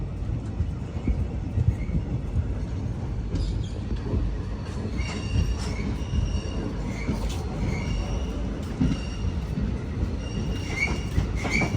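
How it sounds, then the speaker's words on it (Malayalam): Chemmozhi Express, having run 337 km from Coimbatore, rolls into Mannargudi station with a steady rumble, rhythmic wheel clatter and high metallic squeals of the wheels as it slows, heard from on board. "കോയമ്പത്തൂരിൽ നിന്നും 337 കിലോമീറ്റർ യാത്ര ചെയ്ത് ട്രെയിൻ ഇതാ മന്നാർകുടി സ്റ്റേഷനിലേക്ക് എത്തിക്കൊണ്ടിരിക്കുകയാണ്"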